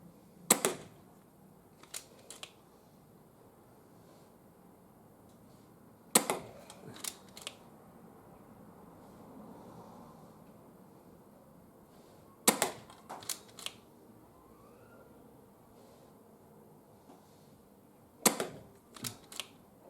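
A Hatsan Jet 2 .25 calibre air pistol fitted with a moderator fires at paper targets with sharp, dry snaps. They come in quick clusters of three or four, separated by quiet pauses of several seconds.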